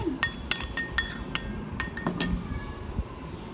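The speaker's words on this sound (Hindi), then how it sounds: "अब हम इसको अच्छे से टॉस करेंगे, स्पून की मदद से टॉस कर लें" A spoon tosses mango salsa in a bowl, giving bright clinks and taps against the dish in an irregular run, close and clear, with soft mixing rustle between strikes.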